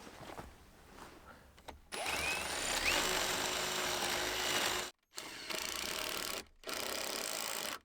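An electric drill fitted with a spade bit bores a recess in wood for lag screws during roof insulation work, whirring loudly in three sustained runs separated by brief stops, close by.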